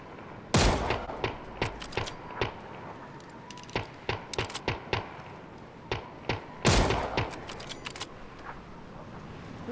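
Gunfire rings out in the battle royale game PUBG: two loud, heavy bursts and many lighter, sharp shots at uneven intervals, with no voices over them.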